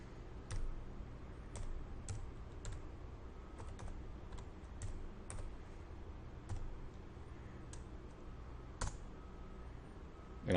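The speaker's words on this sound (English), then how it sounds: "when I'm done typing that, I can press enter" Scattered keystrokes on a computer keyboard while entering survey data into DataCAD, quiet close clicks in short irregular bursts over a soft background hum.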